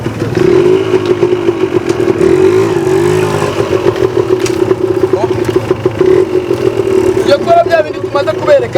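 Motorcycle pulling off in first gear, its engine note rising and clattering close by under a steady drone, with people talking over it toward the end.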